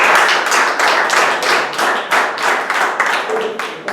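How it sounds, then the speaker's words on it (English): Applause welcoming the Toastmaster at a Toastmasters club meeting: a small audience claps steadily and close by for four seconds, with distinct individual hand claps audible within the sound. "Please give him a big round of applause."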